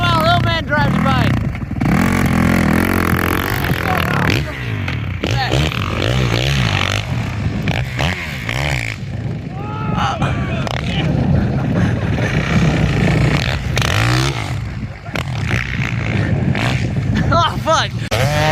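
Motorbike ploughing through deep snow during a snowstorm, its engine loud and revving throughout, with rising and falling throttle bursts; people talk and shout over the engine noise.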